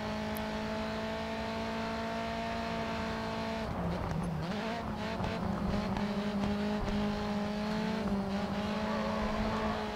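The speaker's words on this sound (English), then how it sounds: "Still skids like hell though, which makes no sense." Touring car tires skidding and squealing in the Grid 2 racing game, a steady engine drone giving way to a scraping, screeching slide over several seconds, loud and continuous.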